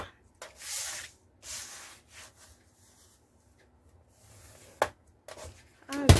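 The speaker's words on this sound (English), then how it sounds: "done with the scoring of the pocket pages" Scoring tool drawn across paper pocket pages for a Christmas mini album, scored at half-inch intervals: a few separate scraping strokes, with short rubs and taps between them, close and fairly quiet, and no talk.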